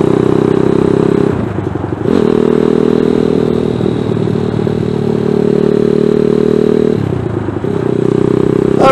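A ZS190 Grom clone motorcycle engine drones close and loud while riding on a chilly day, holding a steady mid-pitched hum with brief dips as the throttle or gear changes.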